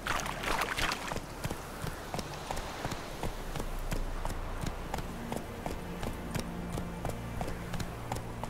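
Roach the horse gallops in The Witcher 3, hooves striking in a steady, rapid clip-clop rhythm throughout, close and continuous.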